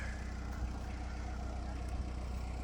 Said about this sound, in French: Échappement d'origine, donc le bruit traditionnel des